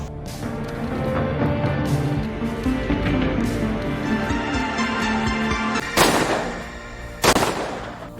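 Gunfire from pistols rings out amid a dense, loud film soundtrack, with two sharp, prominent shots standing out near the end.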